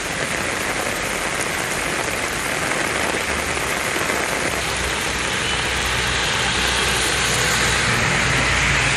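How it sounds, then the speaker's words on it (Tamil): Heavy rain with strong wind in Perambalur pours down as a dense, continuous roar, with a low vehicle rumble underneath the steady downpour throughout. "பெரம்பலூரில் 3வது நாளாக பலத்த காற்றுடன் மழை பெய்தது."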